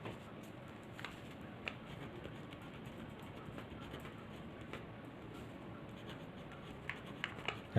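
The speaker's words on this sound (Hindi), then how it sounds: "इसका नाम मैं पहले नीचे लिख देता हूँ।" A pen writes a name by hand on paper in a workshop, a faint, close scratching with soft irregular strokes and a few small taps over quiet room noise.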